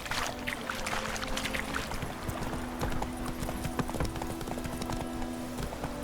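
Roach the horse gallops in The Witcher 3, hooves pounding in a dense, fast, steady clip-clop that stays loud and close throughout, with a faint low hum behind it.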